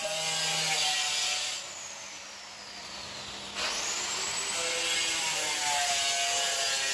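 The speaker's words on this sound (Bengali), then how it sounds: "ওই যে মেশিনটা দিয়ে যে টাইলসগুলো কাটে, এত বিচ্ছিরি শব্দ" A workers' tile cutting machine runs loud and continuous, its grinding whine dropping in pitch for a couple of seconds midway, then rising back to full strength.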